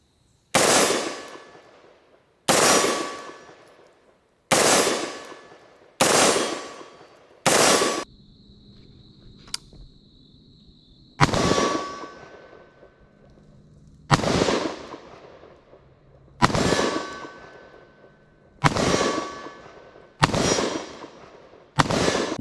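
An AR pistol is fired one-handed, giving about ten loud, booming shots spaced a couple of seconds apart. The reports ring out with a longer pause near the middle.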